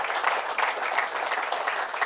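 Audience clapping for South African under-19 cricket players at a capping ceremony, a dense, even burst of applause filling the room throughout.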